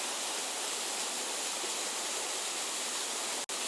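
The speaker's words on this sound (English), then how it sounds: "because this is a waterfall" A waterfall roars as a dense, constant rush of falling water, close and steady throughout, with only a momentary dropout near the end.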